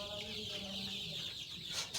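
Desi chickens on a home poultry farm in Pakistan cluck softly and repeatedly at close range, a faint busy chatter with a brief louder squawk at the end.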